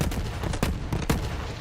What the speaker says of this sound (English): So it shoots single rounds, but they blow up, right?